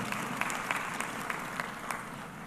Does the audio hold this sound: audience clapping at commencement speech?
yes